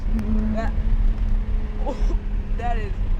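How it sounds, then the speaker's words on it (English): A Lotus sports car engine droning steadily from inside the cabin while driving over a bumpy road, a constant low rumble running under a person's excited talk. "you could actually hear the engine way better, and yeah, quite bumpy"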